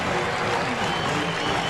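A large crowd of mostly Alabama fans at a 2017 Alabama at Vanderbilt college football game cheers in the stadium, a steady, dense roar of voices and applause holding without a break.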